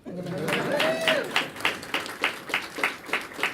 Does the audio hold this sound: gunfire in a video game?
no